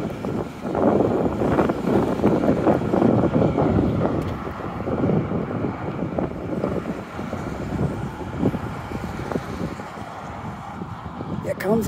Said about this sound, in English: So I will have to put up with the wind for a little bit.